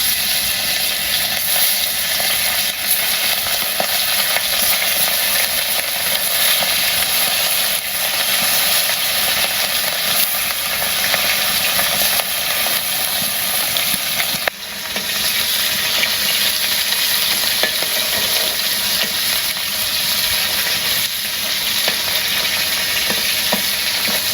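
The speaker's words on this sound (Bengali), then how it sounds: "মাছ ভাজা হয়ে গেছে, মাছটা নামিয়ে নিই।" Fish frying in a pan makes a loud, continuous sizzle and crackle that runs for the whole stretch, with one brief dip partway through and no talking.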